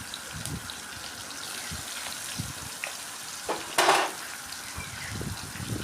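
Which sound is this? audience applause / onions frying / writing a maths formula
onions frying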